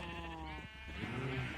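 Minecraft sheep bleating in a wobbly, drawn-out cry that swells again toward the end, fairly close and clear with no talking over it.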